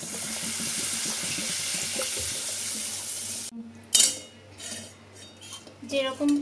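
Water being added to a pan of cooked-down spice paste for a Bengali fish curry, a steady close pouring wash that stops abruptly, followed by scattered clinks of utensils and pan.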